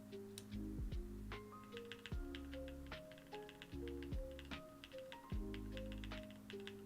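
Keys clacking on a custom mechanical keyboard being tested with different switches and keycaps, in bursts of crisp, close taps with short pauses between runs, no voices.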